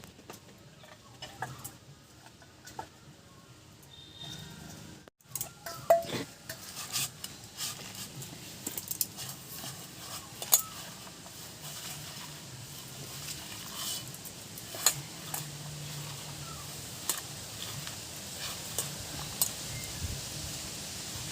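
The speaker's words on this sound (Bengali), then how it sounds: "এবার শাকগুলি মাখাই নেব।" Red amaranth leaves mixed by hand in a bowl for koi fish cooked in banana leaf, a soft, steady squelching and rustling with small clicks and taps, fairly quiet and continuous, with no voices.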